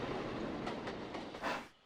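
A steam train, the Flying Scotsman locomotive, rolls along the rails with a steady rumbling clatter, rhythmic wheel beats repeating every fraction of a second, fairly close and continuous.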